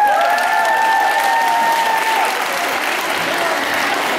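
Full audience applause for a girls' team at an awards ceremony in Česká Kamenice, steady and loud throughout, with a held whistle-like tone over the first half.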